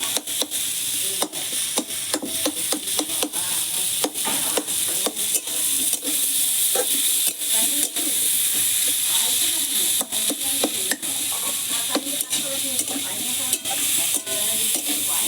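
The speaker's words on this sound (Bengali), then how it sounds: "এটা দিয়ে আর একটু নাড়াচাড়া করে নেবো।" Bitter gourd and pumpkin sizzle steadily while frying in a pan, with frequent sharp spatula scrapes and stirring clatter throughout, close and fairly loud.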